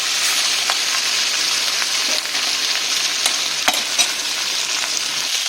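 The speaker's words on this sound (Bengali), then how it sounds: "তো এবারে আমি মাছগুলো একে একে ভেজে দিই।" Pieces of katla fish fry in hot oil with a little turmeric, giving a steady dense sizzle that crackles and spits throughout. A few sharper pops stand out, and no one speaks.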